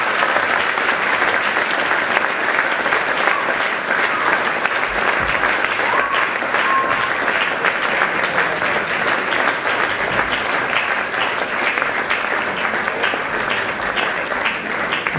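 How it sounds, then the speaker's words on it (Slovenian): A large audience gives a sustained, loud round of applause for mountaineer Martin Vimpošek at a sportsman-of-the-year awards evening, with dense clapping that holds steady for the full fifteen seconds. "Prosil bi vas zdaj za en velik aplavz"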